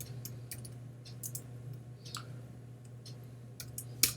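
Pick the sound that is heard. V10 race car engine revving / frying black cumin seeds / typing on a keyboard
typing on a keyboard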